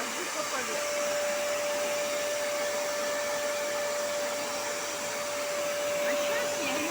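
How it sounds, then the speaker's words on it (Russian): A vacuum cleaner with a brush nozzle is run over a chair, giving a steady, loud broadband whir with a constant motor whine that holds unchanged for the whole stretch, close to the microphone. "Вот теперь можно пылесосить. Вот такая щетка. Я ей вожу по поверхности."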